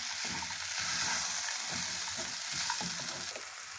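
Banana flower mixture with peas and peanuts frying in a pan, stirred steadily, giving a continuous close sizzle with soft scraping strokes throughout.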